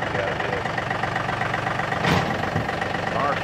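Tractor engine idling nearby in a low, steady rumble, with a brief louder burst partway through.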